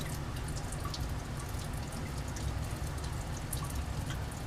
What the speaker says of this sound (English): I'm going to set this at a very slow drip rate